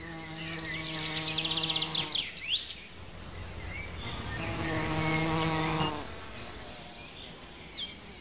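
Short-tongued bees buzz around flowers in sustained droning bursts, rising and falling as they move close by, with faint bird chirps in the background.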